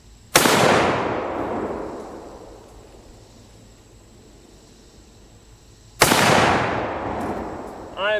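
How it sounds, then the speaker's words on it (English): Two loud, close gunshots from a handgun or rifle at target practice, about six seconds apart, each a sharp crack followed by a long rolling echo that fades slowly. "We're going to shoot the same target."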